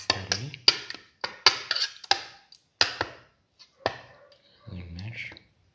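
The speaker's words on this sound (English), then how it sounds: "mix thoroughly" A potato and chickpea fritter mixture with garlic and cinnamon is mixed by hand, a series of sharp close knocks and thuds in uneven rhythm, with a short voice near the end.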